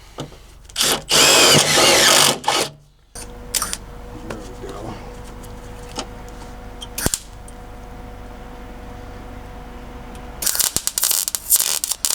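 A step drill bit bores through metal during rust repair on a Ford F350 rocker panel, with loud bursts of drilling at the start and end and a quieter whirring stretch between them.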